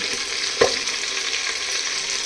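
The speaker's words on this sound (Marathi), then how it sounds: "ते बघा थोडं टाकायचं असं हलवायचं परत घ्यायचं परत टाकायचं" Mutton pieces being added a little at a time and stirred in a clay pot for a village-style mutton curry, giving a steady close sizzle with one brief clunk of a spoon early on, no talking.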